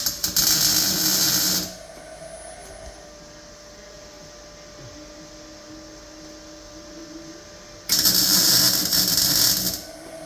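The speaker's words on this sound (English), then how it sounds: "I'll just weld round it." MIG welding on a Ford Fiesta MK7 body panel produces two loud crackling buzzing bursts of about two seconds each, separated by a quiet pause.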